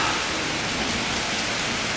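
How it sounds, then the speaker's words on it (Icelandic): Heavy rain pours down steadily in Puerto Rico, a dense, even hiss of water falling on surfaces that holds unbroken for the whole stretch, loud and close with no voices over it. "Það bara alveg rignir og rignir út í eitt hérna í Puerto Rico."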